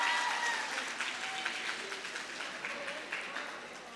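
Audience at a LUMHS ceremony applauding a nursing student receiving a certificate: a continuous, fairly quiet wash of clapping from a large room, slowly easing off, with faint voices underneath.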